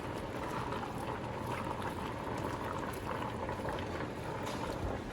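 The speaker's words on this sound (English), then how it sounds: "You can hear those sauces bubbling." Thick, steady bubbling of a simmering pot of meat and vegetable stew, a dense continuous burble of popping bubbles with no voices.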